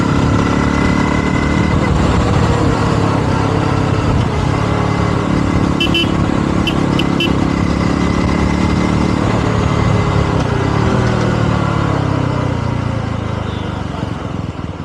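A 2025 Yezdi Roadster top-model motorcycle rolling off the throttle under engine braking, a steady loud engine drone mixed with wind rush, fading slightly at the end; a voice is faintly present.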